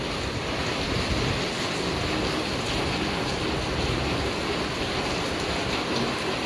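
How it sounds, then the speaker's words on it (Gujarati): Rain falls steadily, a dense, even wash of hiss with no pauses and no voices. "કેટલો સરસ વરસાદ આવી રહ્યો છે"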